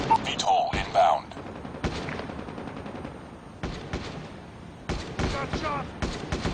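Gunfire in a shooter video game featuring VTOL aircraft and a sniper rifle: several sharp shots at the start and again near the end, separated by a stretch of softer game noise, with game voice callouts heard in between.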